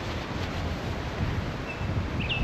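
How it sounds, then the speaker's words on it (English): Breezy wind outdoors at a front-yard campsite: steady, moderately loud rumbling buffeting across the mic, near and continuous, with no talk. "Yeah, it's a little bit breezy, but it's not terrible."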